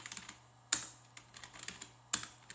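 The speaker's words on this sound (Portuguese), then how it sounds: "vou digitar aqui, ó, sem encostar dessa vez no gabinete" Someone types on a computer keyboard at a repair bench where a faulty power supply was just replaced, giving soft, irregular key clicks with a couple of sharper strikes, close and quiet over a faint steady hum.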